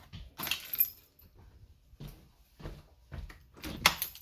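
Keys jangle in several short bursts, with light metallic rattles and clacks, the loudest near the end, in a quiet setting with no talking.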